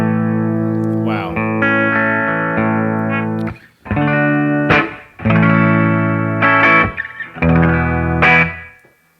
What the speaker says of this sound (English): It's a 92 American Standard Telecaster. Oh, we do got a little reverb on.